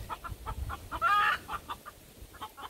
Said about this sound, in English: But these chickens just don't like being caught.